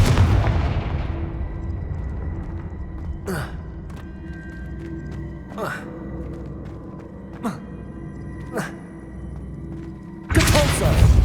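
Confringo fire spell explosions from the video game Hogwarts Legacy, a series of sharp booming blasts spaced a couple of seconds apart over a low rumbling game ambience, ending with a loud burst.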